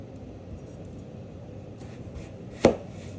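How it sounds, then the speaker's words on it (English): A knife chops potatoes into thin French fry strips on a board, one sharp chop standing out after faint, light cutting taps in a quiet kitchen. "Make some nice, even, thin, nice French fry cuts."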